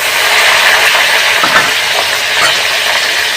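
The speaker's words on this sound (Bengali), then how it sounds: "পেঁয়াজ আর কাঁচা লঙ্কা তেলে ছেড়ে দিলাম।" Chopped onion and green chili sizzle steadily in hot oil after a spice tempering, a continuous close, loud frying hiss with no talking.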